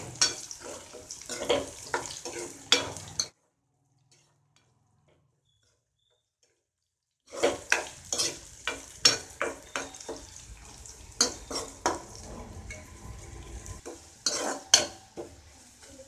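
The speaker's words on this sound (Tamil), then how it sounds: "இந்த வெங்காயம் பூண்டு ரெண்டுமே ஆயிலில் நல்லா ரோஸ்ட் ஆகணும்" Onion and garlic roasting in oil in a pan: brisk stirring scrapes and clatter over a light sizzle, broken by a silent pause of several seconds before the stirring resumes, no voices.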